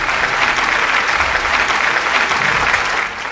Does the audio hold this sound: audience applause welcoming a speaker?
yes